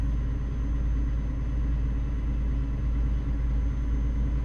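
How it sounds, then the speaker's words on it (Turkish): A steady, low engine rumble of a DAF XF truck in Euro Truck Simulator 2 drones on without a break, like a heavy vehicle cruising along at an even pace. "şu ses arabanın sesi bir tık fazla gibi geldi bana"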